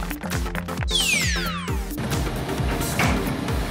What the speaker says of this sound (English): Soil compactor.